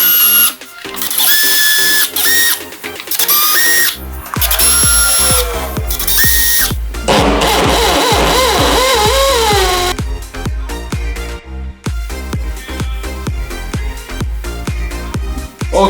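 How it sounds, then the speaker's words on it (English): A power drill bores through very hard porcelain tile in repeated loud bursts, whining and grinding with stops and restarts and shifting pitch as the bit bites during a fireplace mantel install. "This is the hardest part of the job, really, it's drill tile. This is porcelain tile, it's very, very hard."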